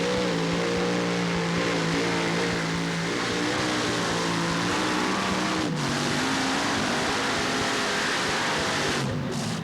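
A pulling tractor's engine roars at full power during a truck and tractor pull at the Nashville state fairgrounds, a steady loud droning howl with shifting pitch and no talk over it.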